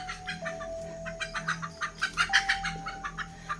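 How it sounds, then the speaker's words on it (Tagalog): A chicken clucks in quick, uneven bursts close by, the rhythmic clucks growing louder toward the middle over a faint steady hum. "May manok ihalas."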